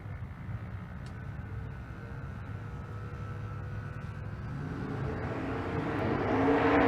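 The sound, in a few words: drag race cars, twin turbo LS and big block Chevrolet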